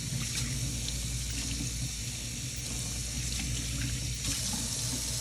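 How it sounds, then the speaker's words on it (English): Tap water runs steadily into a sink while hands are rinsed, a soft constant splashing hiss lasting throughout with no talk. "Now we're going to rinse."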